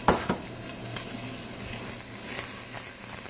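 Carrots, onions and celery for a sofrito cooking in extra virgin olive oil, giving a steady low sizzle with a couple of sharp utensil knocks at the start and light stirring scrapes throughout, no talking.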